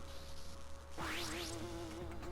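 War wasps in the Metroid Prime: Hunters video game give off a thin, steady electronic buzz, with a quick swooping sweep that rises then falls. The sound is faint and stays alone.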